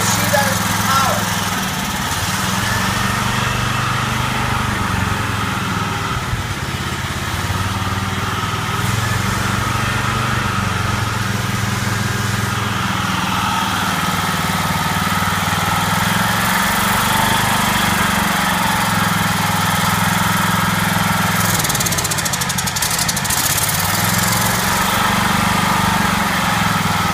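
Internal combustion engine running on oxy-hydrogen gas made from water, holding a load at a steady, loud idle-like drone with slight dips, heard close up with a voice talking over it.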